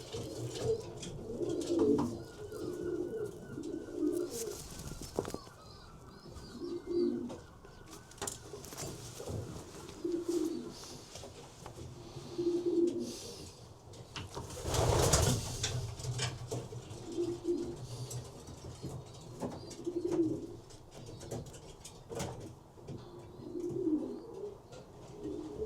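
Racing pigeons cooing inside a loft, with repeated soft low coos in an irregular rhythm alongside occasional rustling and wing movement; no speech.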